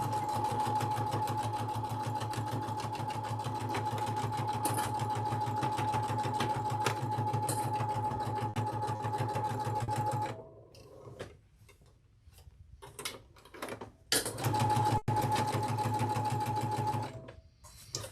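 A sewing machine stitches T-shirt quilt rows in a steady, fast mechanical run with a sustained hum, stops briefly for a few short bursts and pauses, then resumes close and loud.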